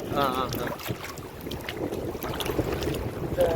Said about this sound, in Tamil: காத்து இப்ப கொஞ்சம் உரத்துருச்சு.